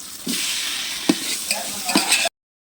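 Tomatoes sautéing in hot oil with ginger-garlic paste and green chillies for chicken biryani, a steady loud sizzle broken by a few sharp stirring scrapes, cutting off abruptly.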